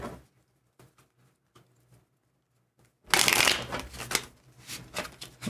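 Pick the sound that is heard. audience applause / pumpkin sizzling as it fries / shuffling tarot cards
shuffling tarot cards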